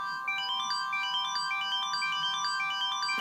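A short custom phone interface tone for an action slide-up sheet, a bright, clean electronic chime playing a quick run of rising notes over a steady sustained tone, faint and alone.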